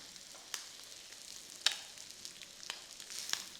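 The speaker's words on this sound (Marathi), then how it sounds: "एका बाजूने अंडी फ्राय झाली असतील उलटून घ्यायची" Eggs frying on a tawa with salt, turmeric, chilli powder and garam masala, a soft, steady sizzle at low volume with a few sharper crackles and pops scattered through it, heard alone.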